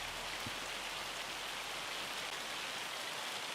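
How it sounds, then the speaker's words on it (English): Hail falling in the video game Farming Simulator 25 makes a steady, dense hiss of pelting ice, constant and even throughout with no voices. "Oh, starting to hail, I think. Yeah, it's hailing."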